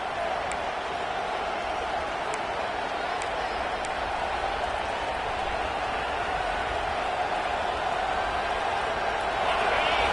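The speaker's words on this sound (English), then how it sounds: "The roar of the crowd trying to fuel this defense to keep them pinned in their own end." A home crowd at a Prairie View versus Florida A&M college football game keeps up a sustained, distant roar on a third down, swelling slightly at the end.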